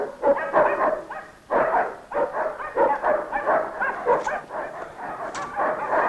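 A farmer's small dog barks repeatedly in a steady, insistent run of yapping barks, fairly close and loud, with brief pauses between bursts and no talk.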